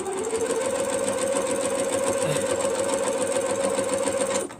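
A sewing machine stitches quilt pieces for a mystery quilt, a close, continuous motorized hum with rapid rhythmic needle chatter that runs evenly and then stops abruptly at the end.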